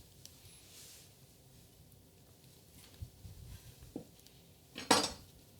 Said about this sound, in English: I had my serrated knife, but because it's so hot, I think I'm just gonna cut right into it.